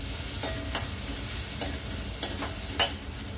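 Asafoetida, turmeric and cashews sautéing in hot oil in a pan, a steady sizzle broken by a few sharp stirring scrapes and clinks, close and clear without speech.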